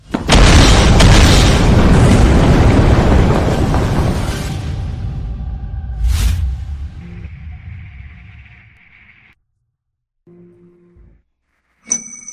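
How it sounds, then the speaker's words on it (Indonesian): A huge boom from a leftover wartime landmine set off by firecrackers erupts and roars for several seconds, then decays into rumbling debris, followed by a smaller secondary blast and a few faint electronic beeps. "Petasan itu memicu ranjau sisa masa perang."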